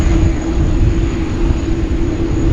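Steady, loud, broadband roar of an Air India Boeing Dreamliner jet departing Sydney Airport, heard from a distance with a constant drone and no voices.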